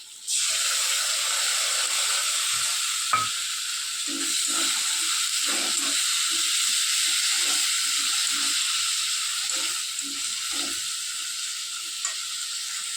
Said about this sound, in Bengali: মশলাটা আমি এখন একটু ভেজে নেব।